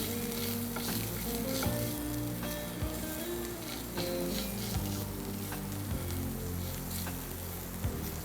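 Vegetables roasting in a hot pan with a pinch of pepper powder give off a steady, close sizzle with occasional stirring scrapes, continuous throughout without speech.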